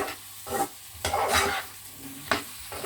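Chopped onion and garlic sizzle in hot oil while being stirred, with scraping bursts of the spoon over a steady close frying hiss.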